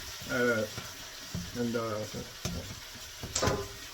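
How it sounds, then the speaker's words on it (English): Hamburger meat sizzles and crackles in a pan, close and quiet, with soft voiced sounds and stirring scrapes over the frying. "I'm still frying up the meat."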